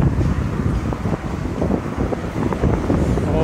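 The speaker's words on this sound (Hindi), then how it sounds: "ज़्यादा ही हवा चल रहा है" Strong gusty wind blowing outdoors in a small Azerbaijani town before a storm, a loud continuous rumbling roar buffeting the microphone with uneven surges throughout.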